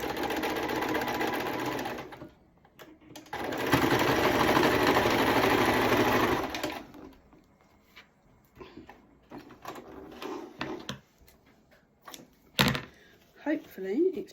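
Sewing machine stitching the corner of a fabric sunglasses pouch, running in two steady loud bursts separated by a pause, then quieter handling clicks and thumps with a voice talking.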